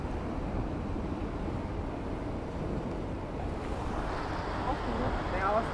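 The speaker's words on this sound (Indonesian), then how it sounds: "Cuman ombaknya enggak gede" Ocean waves wash steadily around a sunken mosque on the Jakarta coast, a continuous loud surf roar mixed with wind buffeting the microphone and no clear breaks between swells.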